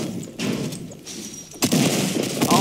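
Bursts of gunfire from the video game Fortnite Battle Royale, a rapid string of shots that comes in loud and close, then returns as a denser volley after a short lull.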